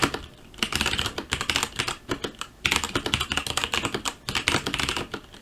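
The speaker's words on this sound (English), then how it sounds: "This is the new keyboard." Rapid, loud typing on a Mountain Everest Max mechanical keyboard, dense bursts of clacking keystrokes with brief pauses, close to the microphone and with no voices.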